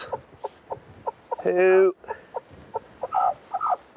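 A frizzle hen clucks in short, evenly spaced bursts, with one longer squawking call in the middle, close by, while a person speaks briefly.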